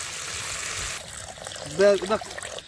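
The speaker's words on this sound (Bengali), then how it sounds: "এবার পরিমাণ মতো ঝোল যেটা খাবো সেটার জন্য জল অ্যাড করে দেবো" Water added to a simmering fish curry with softened potatoes to make gravy: a broad hissing, trickling pour fills the first second, fading into quieter cooking noise as a voice speaks briefly.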